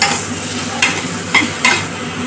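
Capsicum and green chillies fry for chilli chicken in a loud, close sizzle, broken by three brisk scraping stirs of the pan.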